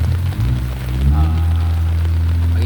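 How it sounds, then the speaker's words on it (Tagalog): Sudden rain falling outdoors on a hot day, a dense, steady hiss and patter with a low rumble underneath, fairly loud and continuous with no talking. "Ang init kanina, sabay biglang ulan po."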